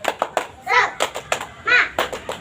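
A sixth-grade class of Indonesian children chants tepuk semangat in a classroom, with bursts of sharp hand claps in a quick rhythm between short sung syllables, close and fairly loud.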